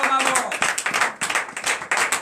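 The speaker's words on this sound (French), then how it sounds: "Donnez l'acclamation à l'Éternel." A church congregation claps together in acclamation during morning prayer in Benin, a dense run of quick, bright hand claps close by, with voices briefly underneath at the start.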